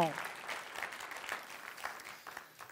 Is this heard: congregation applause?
yes